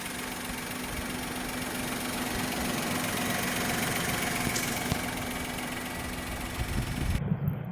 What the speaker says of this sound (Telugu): చూడండి, చూడండి ఇంజన్ కూడా ఎంత నీట్గా ఉందో, ఎలాంటి నాయిస్ లేకుండా నీట్గా ఉందండి.